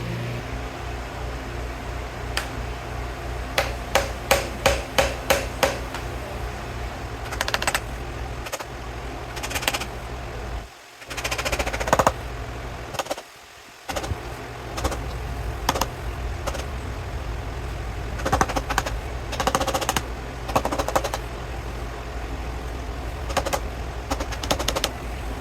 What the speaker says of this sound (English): we get started with the screwdriver and a hammer